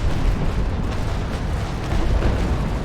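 Ship cannons firing in the naval combat game Naval Action, a dense, continuous rumble of heavy booms and blasts rolling on without pause, loud and close throughout.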